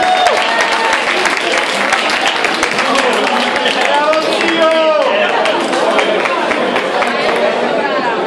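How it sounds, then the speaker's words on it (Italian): A crowd applauds a group of riders at a Gran Fondo cycling event, steady clapping mixed with chatter and voices talking over it. "un bel applauso"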